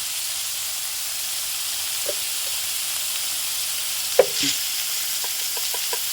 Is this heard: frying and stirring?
yes